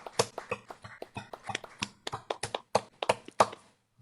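Scattered, irregular hand claps from a small gathering greeting a newly inducted corresponding academy member, close and fairly sparse, trailing off near the end.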